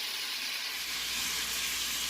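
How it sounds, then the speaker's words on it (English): Four diced Roma tomatoes hit a hot pan for chicharron en salsa roja, giving a loud, steady, close sizzle and hiss that holds evenly throughout without talk. "Now I'm going to add my tomatoes. Now I've got 4 Roma tomatoes right here that I have diced."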